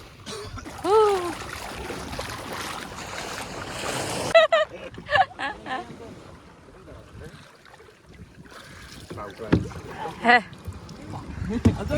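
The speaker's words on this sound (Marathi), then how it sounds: "आमची दर्यावाली होडी आलेली आहे" A sea boat arriving at Dandi beach in Malvan, heard as a loud washing rush of water and engine noise for the first few seconds, then quieter surf with scattered voices calling and talking nearby.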